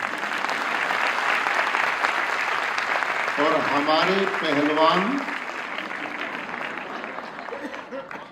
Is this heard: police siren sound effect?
no